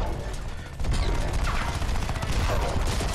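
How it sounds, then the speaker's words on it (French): Dense, continuous rattling bursts of alien machine gun fire from a robot in the video game Crysis 3, loud and unbroken, with a busy game soundtrack underneath. "Il a une mitrailleuse extraterrestre, il fait super mal"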